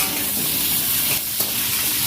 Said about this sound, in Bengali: তারপর এখানে আলুটা ভাজতে দিয়ে দিয়েছি